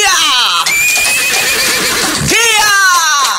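A horse neighs loudly in long, wavering whinnies close by, mixed with speech, shouting and faint hoof clatter.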